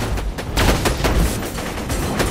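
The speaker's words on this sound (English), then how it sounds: "Just everybody fire on it" Dense gunfire in Borderlands 2, a rapid, loud stream of overlapping shots and booms from several weapons at once, all fired together at a single target.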